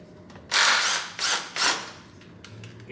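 A ratchet loosens the VTEC solenoid bolts on a 1999 Honda Civic engine, giving three close, quick bursts of clicking, the first longest, then a few faint metallic taps.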